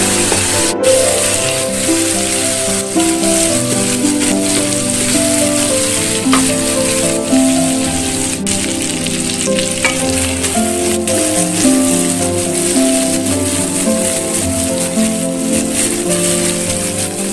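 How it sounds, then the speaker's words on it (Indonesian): Spices sautéing in a pan for sayur lodeh, a loud, dense, continuous sizzle and crackle heard up close with no talk over it. "kita tumis sampai harum ya"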